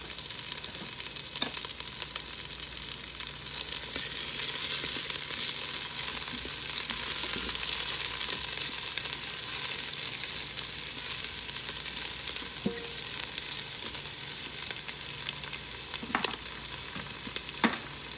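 Bacon grease sizzles and crackles steadily while frying in an Instant Pot, a continuous close hiss with small pops scattered throughout and no talking.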